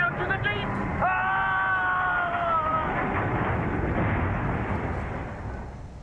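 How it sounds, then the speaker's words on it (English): Screams from the video game Call of the Sea, several wavering, drawn-out cries over a deep, rumbling, churning roar that fades near the end. "Sweet Jesus, those screams."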